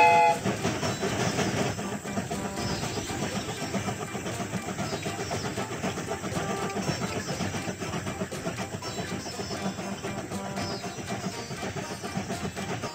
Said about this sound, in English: The train is about to start.